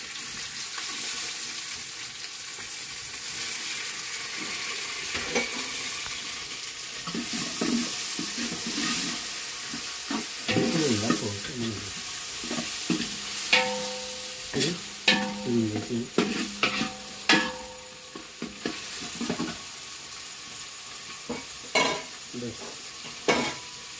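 Onions and tomatoes fry in a pan while being stirred, giving a steady sizzle broken by scraping and clattering stirring strokes. Some water-like splashing rises and falls, and no one speaks.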